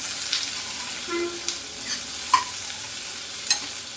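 Thick-cut large onions fry in a pan with no water added, a soft steady sizzle broken by a few light stirring scrapes and clicks, quiet and close.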